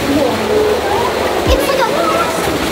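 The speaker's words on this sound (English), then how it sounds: "there's a waterfall in this one" A waterfall inside a tunnel, a steady broadband rush of falling water that fills the space, with people talking over it throughout.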